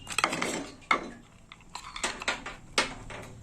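Soaked matar dal (split peas) is tipped into a pot of water for boiling in a home kitchen, giving a series of faint scraping, clinking and knocking sounds of utensil against metal pot, sporadic and close.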